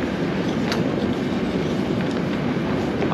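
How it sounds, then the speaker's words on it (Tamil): A passenger train bound for Kiruna in Sweden rumbles steadily nearby at a station, a continuous low roar with faint rhythmic clicks and no voices. "இதுதான் நாங்கள் ஏற போகிற ட்ரெயின்."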